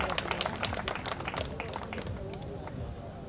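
An outdoor political rally crowd claps to welcome a speaker, steady, close applause continuing throughout with some crowd murmur beneath it.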